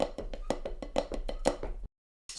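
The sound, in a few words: drum flam taps with flam on third partial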